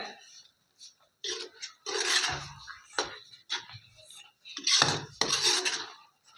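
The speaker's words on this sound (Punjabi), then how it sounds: "2 ਚਮਚ ਪਾ ਦਾਂਗੇ ਦਹੀਂ ਦੇ ਹੁਣ ਚੰਗੀ ਤਰ੍ਹਾਂ ਕਰ ਦਿੰਦੇ ਇਹਨੂੰ ਮਿਕਸ" A spoon stirs yogurt and kasuri methi into eggplant bharta, making irregular clinks and scrapes against a metal pot or bowl in short bursts, loudest near the middle and end, with no talking.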